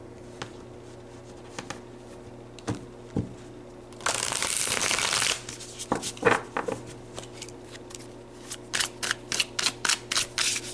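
Tarot cards are handled and shuffled close up: soft, scattered flicks and taps, one sustained riffling burst in the middle, then a quick series of crisp card snaps near the end. There is no talking.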